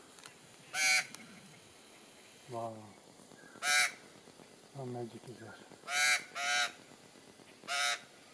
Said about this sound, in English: You've upset the birds.